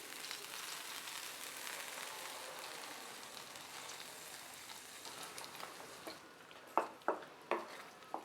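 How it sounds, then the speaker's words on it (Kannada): Tempering and water are stirred into sweet pongal in a pan, giving a faint, steady hiss followed by a few distinct spoon scrapes near the end. "ಒಗ್ಗರಣೆ ಹಾಕಿ ಬಾಣಲೆಗೆ ಸ್ವಲ್ಪ ನೀರು ಹಾಕಿ ಅದನ್ನು ಕೂಡ ಬಾಣಲೆಗೆ ಹಾಕಿ ಎಲ್ಲನೂ ಚೆನ್ನಾಗಿ ಮಿಕ್ಸ್ ಮಾಡೋಣ"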